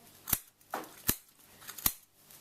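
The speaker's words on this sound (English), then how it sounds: "I have to cut through both materials, but I will not be able to cut them in one go" Sharp scissor snips cut through thick fur and wool fabric while tailoring a pocket, four crisp, close cuts at an uneven pace in an otherwise quiet room.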